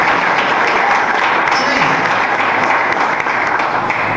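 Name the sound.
applause in church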